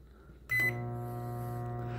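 A microwave oven with a banana on a plate inside starts with a clunk, then settles into a steady loud electric hum that continues without pause.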